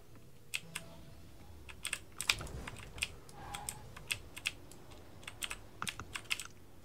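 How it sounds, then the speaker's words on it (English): Rapid, loud computer keyboard typing during a Rocket League gaming session: crisp, irregular clacks in quick bursts, close to the microphone, with no talking over them. "My keyboard's so loud."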